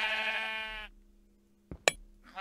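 A video game sheep bleats once in a long wavering cry, followed by a short pause, two sharp clicks, and the start of another bleat.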